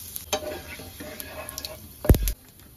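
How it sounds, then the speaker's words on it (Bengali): Cumin seeds and dried chillies hit hot oil already used for frying prawns, giving a soft crackling sizzle with faint clicks and one brief louder burst, fairly quiet and close. "আর একটু সাদা জিরে ফোড়ন দিয়ে দিলাম।"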